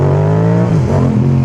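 A motorcycle engine pulls steadily after the clutch is let up into second gear, giving a loud, close, continuous drone whose pitch shifts slightly partway through.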